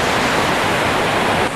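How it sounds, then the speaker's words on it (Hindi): Water rushing hard through the middle of a vehicle on the road to Melamchi, a loud dense roar of flowing water with no voices. "गाडीको बीचे बीच से पानी बगत"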